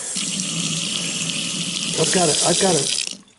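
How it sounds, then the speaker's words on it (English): Water runs from a kitchen faucet into a sink holding a reinstalled garbage disposer, a steady loud splashing rush close by that shifts in tone near the end before shutting off. "got to run some water to double check and make sure it's not leaking"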